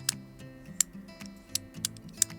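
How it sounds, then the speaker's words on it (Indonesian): An aluminium USB flash drive swivel is turned, giving a handful of crisp, close clicks at uneven intervals over a soft background hum. "kalau kita puter-puter USB-nya ada semacam stoppernya gitu sih, bunyi klik-klik-klik kayak begini nih"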